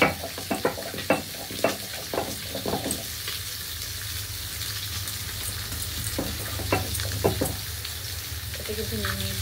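Fish and tomato frying in a pan for a fish curry, giving a continuous sizzle with a quick run of spattering pops and clatter near the start, then steadier frying with occasional knocks.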